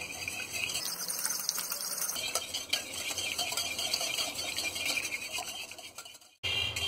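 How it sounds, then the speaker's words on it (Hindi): Milk and vanilla essence with salt whisked briskly in a bowl for French toast, a continuous scraping, swishing stir with fast rhythmic clinks, close and steady, stopping briefly near the end before resuming. "वनीला एसेंस और ये दूध, और इसे हम अच्छी तरह फेंट लेंगे।"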